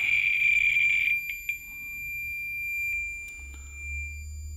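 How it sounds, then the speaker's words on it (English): A radiation detector held close to a radioactive 1950s industrial smoke detector gives a loud, steady high electronic alarm tone for about a second, then softer chirps and faint beeps follow as the overload continues. "it's actually sending my detector into overload at this distance"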